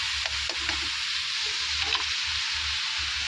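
Cauliflower tossed into hot spices in a pan, sizzling steadily while a utensil stirs and scrapes in short repeated strokes, close and continuous with no talking.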